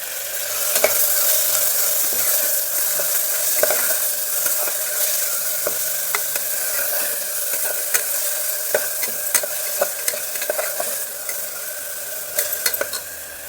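Minced mutton keema fries in a hot pan, a loud continuous sizzle close by, punctuated by frequent light scrapes and taps of a spoon as it is stirred, no talking.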